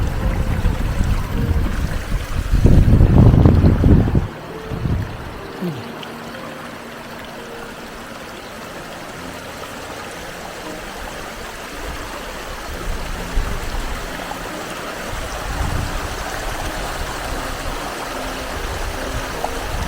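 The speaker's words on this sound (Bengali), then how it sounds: "চারোদিকের এই পর্ব থেকে এই ধরনের ছোট ছোট স্ট্রিমের মাধ্যমে পানি গড়িয়ে পড়ে এই লেকের সৃষ্টি" Small mountain meltwater streams trickle down from the peaks into Lake Louise in the Canadian Rockies, a steady soft rush of running water with a louder surge of flow early on.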